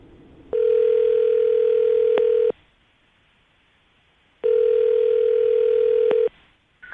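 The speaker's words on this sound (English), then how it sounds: "I'm going to call him right now and see if we can get him on the phone" Two long ringing tones from a telephone call being placed, each steady burst lasting about two seconds with a quiet gap between, clear and prominent with no voices.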